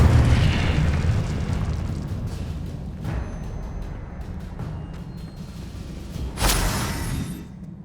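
Incendio fire spell blasts in Hogwarts Legacy: a loud, continuous roaring burst with rumbling low end, then a sharper flare-up near the end, with no talk.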